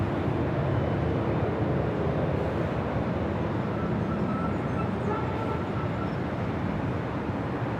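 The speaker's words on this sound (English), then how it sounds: "this flight heading to Paris, the 787-9 Dreamliner" A Boeing 787-9 Dreamliner bound for Paris rolls for takeoff at LAX, its engines giving a loud, steady, broadband roar that holds without a break throughout.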